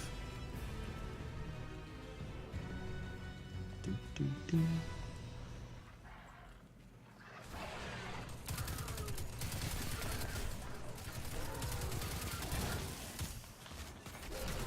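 Rapid video game gunfire in a Destiny Leviathan raid, fusillades of shots running steadily under a busy mix of game effects and music, loudest in the second half.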